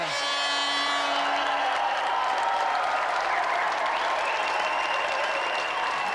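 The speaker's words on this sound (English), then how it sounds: "applause for Matthew Frary and our special guest, Rory Underwood." Loud, sustained applause from a large audience, continuous and even throughout with no talking.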